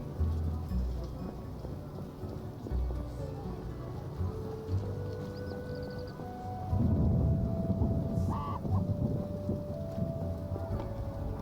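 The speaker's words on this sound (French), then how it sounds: "La pluie tombe." Steady rain in the video game The Witcher hisses with low rumbling and wind, growing heavier partway through, with faint tonal chimes above.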